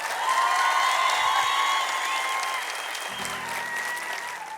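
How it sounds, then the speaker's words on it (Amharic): An audience at a motivational lecture breaks into applause, a dense, loud wash of clapping that carries steadily from start to end and eases slightly toward the close. "አጨብጭቡ"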